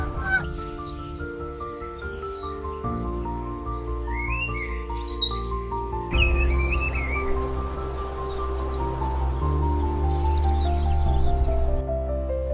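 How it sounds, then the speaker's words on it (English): Several birds chirp and sing in bright, high warbling phrases over a sustained, swelling orchestral music bed, the calls coming in scattered bursts close to the listener. "Birds, the descendants of dinosaurs, spread their wings and opened a new sky."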